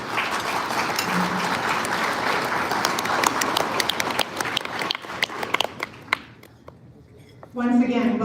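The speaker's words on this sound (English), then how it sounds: "Let's give them a round of applause" At the CAIR Minnesota annual banquet dinner, a large hall audience bursts into sustained applause that thins into scattered claps over several seconds before a voice speaks at the end.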